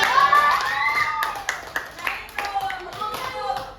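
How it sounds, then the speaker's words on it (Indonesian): In a classroom lesson, a scattered patter of children's clapping rings out under chattering young voices, with a few sharp, separate claps standing out. "tepuk tangan buat Raisa."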